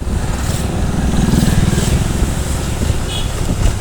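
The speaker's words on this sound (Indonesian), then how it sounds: "Ada motor pinggir di sini, hati-hati." A motorcycle on a road, heard from another moving motorbike, gives a low, steady engine drone that swells briefly as it passes close, under continuous wind and road rumble.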